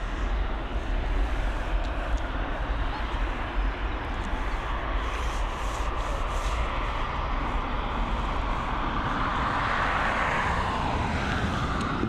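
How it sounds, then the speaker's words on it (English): A Norwegian Boeing 737 MAX arrives at Dublin Airport, a sustained, loud jet rumble with a broad roar and a slowly shifting whine, with no talking. "It's a Boeing 737 MAX operated by a Norwegian with Theodore Kittelsen, a livery on it."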